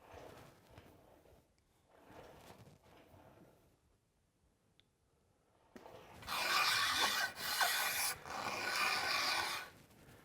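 A hand tool rasps thin shavings from the maple limbs of a primitive wooden bow, starting with soft intermittent scraping strokes, then a short pause before louder, steady rubbing strokes close by.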